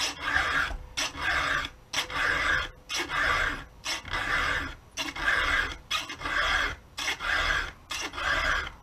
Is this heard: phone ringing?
no